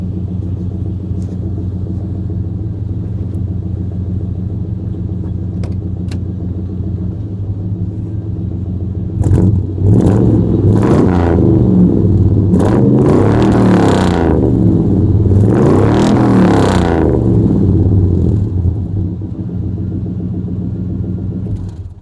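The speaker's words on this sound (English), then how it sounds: "But I'll rev it up for you a bit." A 1990 GMC truck with true dual exhaust and a cherry bomb muffler idles with a deep rumble, then revs hard several times in close, loud bursts before settling back to idle.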